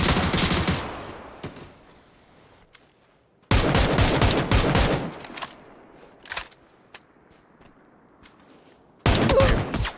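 Bursts of automatic gunfire in the battle royale game PUBG, three loud clusters of rapid shots separated by quieter gaps with scattered single cracks.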